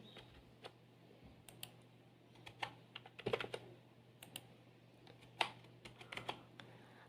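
Keys clatter on a computer keyboard as values are entered into a spreadsheet during a basic computer lesson: faint, sparse, irregular keystrokes in a quiet room.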